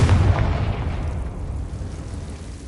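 A Confringo fire spell blast in Hogwarts Legacy, a loud low boom at the start fading into a long rumbling decay, with no talking.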